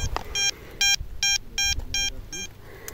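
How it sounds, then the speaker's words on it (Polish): XP Deus metal detector giving a run of short, bright electronic beeps, about six regular pulses while sweeping between rocks on medieval ground, with faint digging and handling noise between them and no talk. "Jakiś sygnał pomiędzy skałkami."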